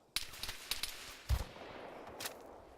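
Gunshots in a military video game, a handful of scattered cracks at uneven intervals with one heavier thump in the middle, fairly faint and distant-sounding.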